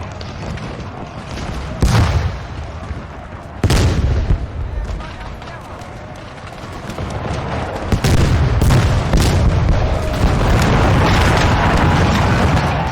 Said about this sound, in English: These howitzers are starting to hit danger close to this army.